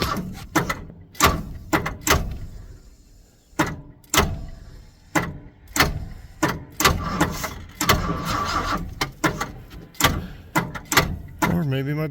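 A 1979 Ford F150 short bed that sat for four years cranking in repeated short bursts, each a loud starter grind separated by pauses, with some indistinct voice between attempts.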